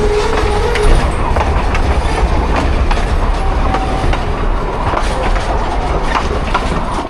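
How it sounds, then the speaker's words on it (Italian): A train rolls past very close, loud and continuous, with rhythmic wheel clatter and a brief high squeal near the start, on the route to Machu Picchu, Peru. "Oh, passano treni a 1 centimetro."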